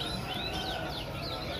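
A Klaten canary sings at a bird market in Prambanan, a few high chirping sweeps rising over constant background chatter and market bustle.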